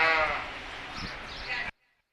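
A single Oxford sheep at a sheep sale in Greenfield, Indiana, lets out one loud, close, wavering bleat that ends abruptly.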